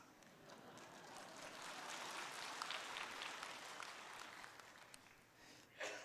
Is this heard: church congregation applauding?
yes